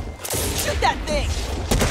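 Rapid bursts of video game gunfire crackle and boom through a hectic shooter battle, with players shouting over the shots.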